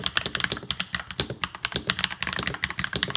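Steady typing on a NuPhy Halo 96 mechanical keyboard, crisp clacky keystrokes in a fast continuous rhythm, close up with no voices.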